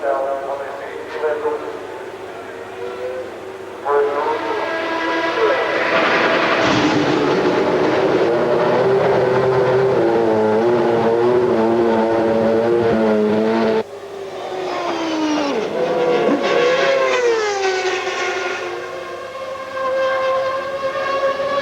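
A McLaren Formula One car at full speed during a qualifying session, its loud, high-revving engine whine rising and falling in pitch continuously, with someone narrating over it.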